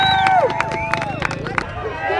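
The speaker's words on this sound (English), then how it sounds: "give a big round of applause for the amateur class" Crowd applause and cheering for the amateur class at a pit bike race, with bursts of claps and whoops over a busy outdoor hubbub, fairly close and steady across the clip.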